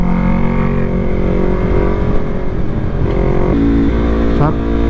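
A Yamaha MT03 motorcycle drones loud and close as it is ridden along a rough, twisty road, its engine note held steady and then climbing briefly near the end.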